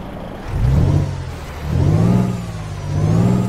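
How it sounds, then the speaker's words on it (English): A Peterbilt 389 truck with a PACCAR 500 straight engine in Euro Truck Simulator 2 rumbles deeply, revving up and easing off in three loud, bassy swells with no talk over it. "I'm going to go with the PACCAR straight 500 engine as opposed to the chip-tune one, and you can have a listen to that when it starts up."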